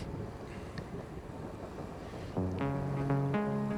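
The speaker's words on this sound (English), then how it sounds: "He's struggling because it's quite windy now." Strong wind buffets the microphone during wing foiling with a rough, rumbling rush, and partway through a steady droning tone joins in.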